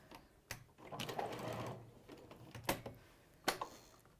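A sewing machine stitches along a seam in a few short runs, its motor whirring in quick bursts with sharp mechanical clicks between stops, close and clear.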